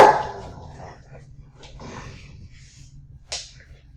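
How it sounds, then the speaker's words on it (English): Dogs bark in the background indoors, a few faint, scattered yips and barks, with a louder sharp bark near the start and another near the end. "my animals are barking in the background"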